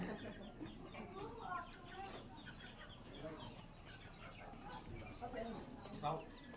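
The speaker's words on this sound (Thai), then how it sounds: "นี่ลูกไก่เข้าเจ้าเลย" Chicks and chickens cluck and peep around a rural Lao village home, with soft calls scattered throughout while people talk nearby.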